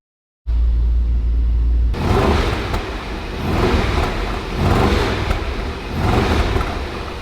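A Range Rover SVR's V8 engine rumbles steadily nearby, with a deep low-end drone and slight rises and falls in revs, no talking.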